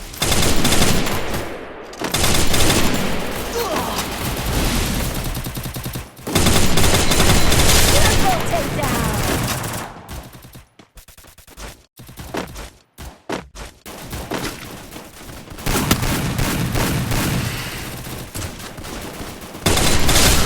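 FAMAS rifle fire in the game Free Fire: loud, dense automatic bursts fill most of the stretch, broken by brief pauses and scattered shorter volleys.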